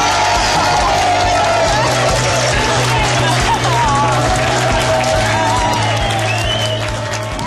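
Wedding guests clap and cheer loudly for the newlyweds, a dense, continuous wash of applause with crowd noise and voices mixed throughout.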